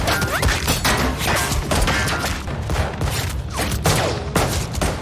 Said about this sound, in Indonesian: Orang ini menembak dan Kuto juga membalas.